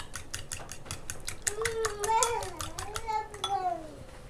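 Three eggs beaten by hand for a chicken omelette, a quick run of rhythmic utensil clicks against the bowl, close and fairly soft, with someone talking over the second half.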